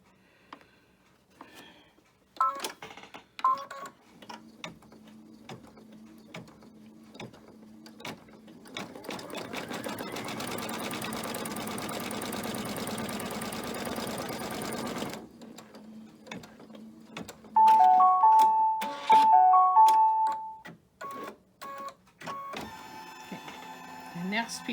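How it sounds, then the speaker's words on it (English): Sewing machine stitching cotton fabric pieces for a Fourth of July flag banner, a steady whirring run of several seconds framed by shorter bursts, with clicks and handling noises and some brief talk in between. "I'm going to press these back in place first before I stitch down the next white piece"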